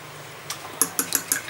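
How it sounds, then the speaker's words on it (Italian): An egg beaten with a little salt in a small bowl, a quick series of light clinking taps of utensil against the bowl, faint and close, with no talking. "una ciotolina e sbattiamo l'uovo con un po' di sale"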